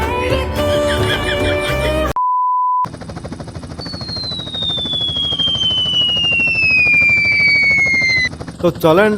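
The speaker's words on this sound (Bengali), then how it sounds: "হেলিকপ্টার উড়ানো একদমই সোজা" A helicopter flies in the video game GTA San Andreas, giving a steady, loud rotor drone with a high whine slowly falling in pitch, preceded by game music and a short electronic beep tone.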